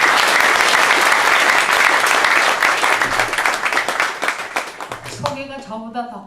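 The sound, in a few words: audience applause welcoming a lecturer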